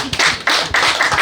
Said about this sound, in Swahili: Ujumbe umefika, mpige makofi.